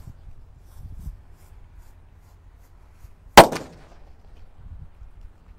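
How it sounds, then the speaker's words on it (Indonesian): A single sharp bang from a Disco Happy Flower firecracker sounds out of near-quiet and rings briefly before fading, with faint low rumble around it. "Selanjutnya di sini ada mercon Disco Happy Flower warna merah ya, yang lap-lap door guys"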